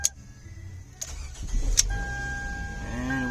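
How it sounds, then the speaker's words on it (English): A 2007 Toyota Camry starts up: a couple of sharp clicks, then a brief cranking and the engine catching into a low, steady idle, heard up close with no talking. "Turn the ignition off, unplug the jumper, and the vehicle started up."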